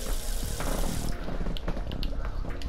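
Water gushing steadily from a tap in an Adventure Time cartoon scene, a continuous broadband splashing rush that stays loud and close throughout.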